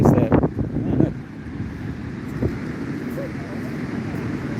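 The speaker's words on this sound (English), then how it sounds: "it's so windy as you can tell" Strong outdoor wind at sunrise buffets a microphone with a low, rumbling roar, heavier gusts in the first second, then a steadier blustery rush.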